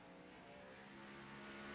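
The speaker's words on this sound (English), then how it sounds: "as those cars pull away" Race cars in a racing video game drone as they pull away from pit road, a faint, steady engine hum with tonal bands that swells slightly.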